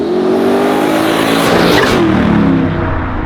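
A twin-turbo LSX V8 in a 1966 Chevrolet Chevelle revs hard, pitch climbing and then easing off, loud and close with a deep throaty roar.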